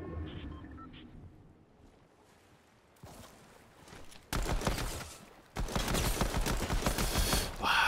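A golden pistol fires in a shooter video game, starting faint and quiet, then erupting into loud, rapid, dense bursts of gunfire toward the end.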